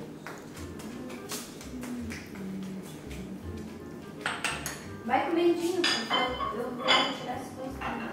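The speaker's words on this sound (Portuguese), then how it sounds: "Mãe, não precisa lavar a louça, cara." Dishes being washed at home: pots, plates and cutlery clink and clatter in an irregular stream, growing louder and busier toward the end, with a brief spoken word.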